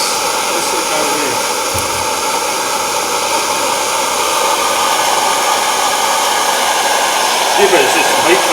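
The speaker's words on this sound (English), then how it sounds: "you know what's better than one blow lamp, don't you? Two blow lamps" Two blow lamps roar together in a steady, loud, broadband hiss that holds for several seconds and swells slightly near the end.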